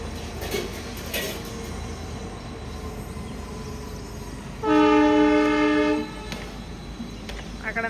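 A train passes with steady rumble, then a loud, sustained horn blast for about a second and a half before the rumble continues.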